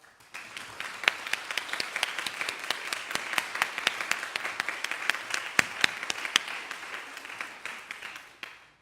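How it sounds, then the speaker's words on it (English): Audience at a scholars' induction ceremony giving a round of applause, a crisp, continuous patter of many hands with sharp individual claps standing out, sustained and fairly even before tapering off. "can we give them a round of applause?"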